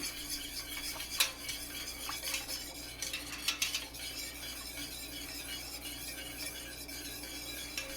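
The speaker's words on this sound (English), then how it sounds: "As I'm stirring it, I'm starting to feel a little bit of resistance." A spoon stirs gluten-free, nightshade-free enchilada sauce in a pot, making soft scraping swirls punctuated by a few sharp metallic clinks against the pot, close and quiet with no talking.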